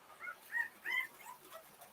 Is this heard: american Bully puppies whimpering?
yes